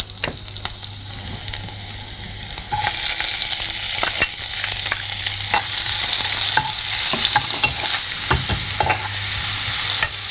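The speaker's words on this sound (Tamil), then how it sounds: "ஸோ வெங்காயம் வதங்கணும்" Chopped onions and green chillies sizzle and sauté in hot oil for a Chettinad chicken gravy. A broad, steady frying hiss grows louder partway through, broken by repeated scraping clicks of stirring, with a low hum beneath and no voices.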